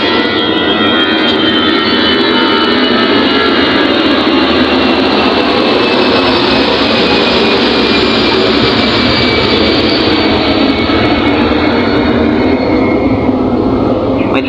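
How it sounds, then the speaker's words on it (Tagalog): An airplane passes overhead with a loud, steady jet roar that fills the whole stretch, its pitch shifting slightly as it moves across the sky. "May dumaan pa na eroplano."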